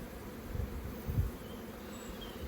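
Low, steady buzzing of many honey bees up close in an open hive, with a couple of soft thumps.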